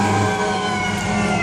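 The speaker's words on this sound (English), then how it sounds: "the ambulance decided it was going to drown me out" An ambulance siren passing outside wails loud and sustained, a steady tonal cry over the low drone of traffic.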